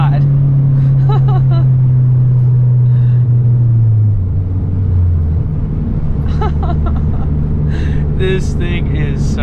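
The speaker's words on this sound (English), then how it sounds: "I had to bang it off rev limiter for you" A Mazda Speed 3 with full bolt-ons roars on wet backroads, its engine held high and droning, then dropping in pitch as the revs fall, while the driver talks excitedly over the noise.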